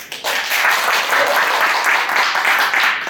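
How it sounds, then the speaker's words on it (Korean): Enthusiastic applause from an audience of union members at a meeting, dense steady clapping that fills the room for a few seconds, close and loud with no voices over it. "우리 동지들의 힘찬 박수로 시작하도록 하겠습니다"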